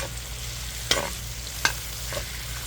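Pork and whole garlic cloves sizzle in a pan with a steady, close hiss, punctuated by two sharp clacks of a utensil against the pan and a softer knock near the end.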